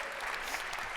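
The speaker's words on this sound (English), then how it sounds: "I love how glad everyone is for clapping." Audience at a circular-economy conference event breaks into steady, dense applause throughout, a continuous wash of clapping from a crowd.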